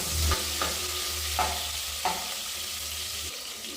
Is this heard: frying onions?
yes